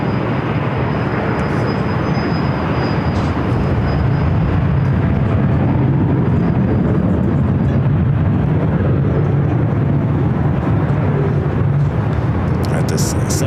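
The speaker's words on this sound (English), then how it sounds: "this 787-9 Dreamliner heading to Paris" A Boeing 787-9 Dreamliner bound for Paris at Los Angeles airport (LAX) gives off a constant, loud, broad jet roar that fills the whole stretch, with people talking over it.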